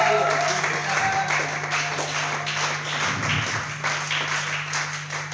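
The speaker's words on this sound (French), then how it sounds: "Est-ce que tu peux acclamer encore plus fort pour la gloire de Dieu?" Audience applause at a church youth seminar, a steady wash of clapping from a crowd that holds at moderate level throughout, with a low hum underneath.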